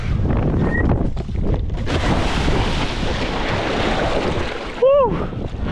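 Strong gusty wind buffets the microphone during snowy, cold wingfoiling out on the water, a steady loud roar with rushing surges throughout, and a brief high whistle-like chirp near the end.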